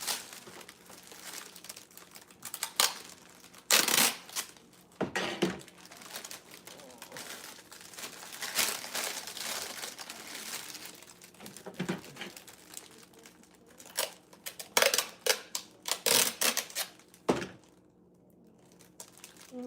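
Gift wrapping paper crinkles and rustles in repeated bursts, with sharp tearing and crackling of tape between quieter stretches, close up and fairly loud.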